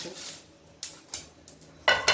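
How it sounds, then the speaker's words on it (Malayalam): Whole dry spices and cinnamon bark for biryani masala rattle and scrape in a hot pan, with several sharp stirring scrapes at irregular intervals, close and fairly loud, no talking. "ഇത് വറുത്ത് എല്ലാ സാധനവും ഇതിലിട്ട് വറുക്കും"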